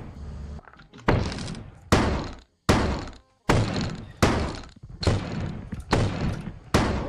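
Shotgun blasts in the video game Lethal Company, about eight heavy booming shots fired in a steady rhythm, each sharp onset decaying quickly, loud and close with no talk over them.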